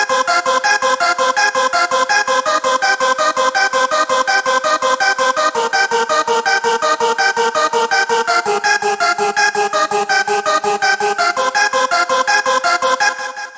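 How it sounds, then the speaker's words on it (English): A CMI vocal sample in a hard gabber techno track plays as a dense, loud, continuous choir-like pad with steady pulsing, running alone throughout and cutting off at the end. "then we have the CMI vocal sample, which sounds like this"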